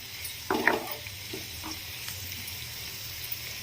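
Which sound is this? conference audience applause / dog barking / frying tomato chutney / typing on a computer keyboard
frying tomato chutney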